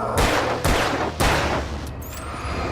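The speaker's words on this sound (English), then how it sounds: "Don't shoot your gun" Gunshots in the Alan Wake video game, three loud sharp blasts about half a second apart with booming tails, followed by quieter lingering rumble.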